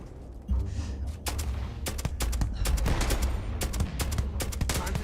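Gunfire in Starfield, a string of sharp, loud shots and short bursts spaced irregularly over several seconds above a steady low background rumble, with no talk.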